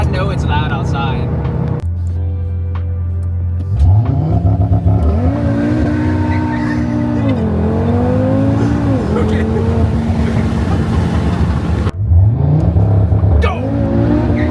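An Audi RS3 on a Stage 1 E85 tune with an AWE Switchpath exhaust, revving loudly up close in repeated rising and falling bursts, with voices talking over the engine.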